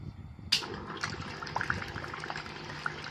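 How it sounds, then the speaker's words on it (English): Water gushes steadily from a pump into an aquaponics grow bed, a constant watery rush punctuated by a sharp click at the start and a few small drips. "And then switch on the pump."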